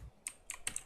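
Three or four crisp key taps on a computer keyboard come close and quiet, spaced about a quarter second apart during a SA-MP game scripting session.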